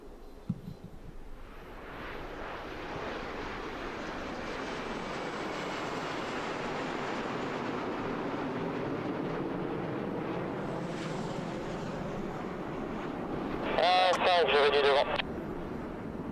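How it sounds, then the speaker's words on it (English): Patrouille de France jets taking off together at the Volkel air base air show in 2013: a loud, sustained broadband roar that swells and holds for the whole stretch, with a brief warbling tone near the end. "Simultaneous takeoff of the Patrouille de France."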